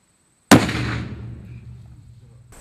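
One loud gunshot at a shooting range where an Uzi 9mm, an M60 machine gun and a .50 caliber rifle were fired: a sudden sharp crack, then a long rumbling decay, with no talk.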